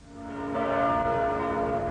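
Church bells tolling across Budapest on a Sunday, a rich ringing of overlapping bell tones that swells and sustains, heard alone with no talk.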